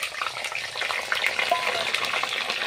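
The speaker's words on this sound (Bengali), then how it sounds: "আর এই ছোট কড়াইটার মধ্যে দিয়ে দিচ্ছি এই যে কেটে রাখা আলুগুলো" Cut potatoes hit hot oil in a small wok, a dense close sizzle and crackle holding steady throughout, with no talk over it.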